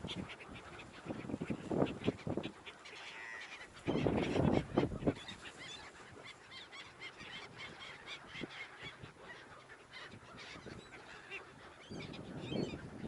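A crowd of geese and ducks gathering on a lower pond in Kaliningrad while being fed grain, loud overlapping honks and quacks close by, with bursts of excited squawking rising over the flock's steady chatter.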